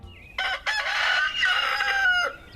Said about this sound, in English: In case you're not familiar with what a rooster sounds like, which is a male chicken